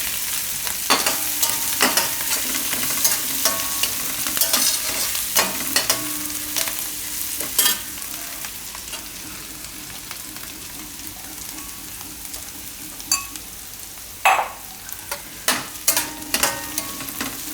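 Thecha sizzles in hot oil in a pan over a gas flame turned down to simmer, a steady close frying hiss broken by sharp clicks and scrapes of a stirring spoon, with no talking.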